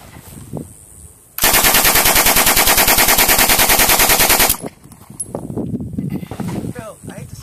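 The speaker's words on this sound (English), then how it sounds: "turn to our good old friend, the Sterling Submachine Gun" A Sterling submachine gun fires one loud, sustained automatic burst of rapid, evenly spaced shots lasting about three seconds, then stops; quieter background noise and voices follow.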